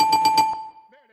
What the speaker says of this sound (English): You need a sound effect. A bell.